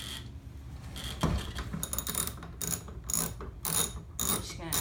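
A 12mm socket ratchet loosens a wheel bolt on a Honda HRR216 push mower, giving a close series of rapid clicking pawl strokes in short uneven bursts, alone without speech.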